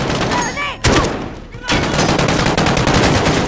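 Heavy gunfire rings out in Call of Duty: Modern Warfare (2019), with loud, close bursts of rapid shots and two sharp blasts. Shouted voices come through amid the firing.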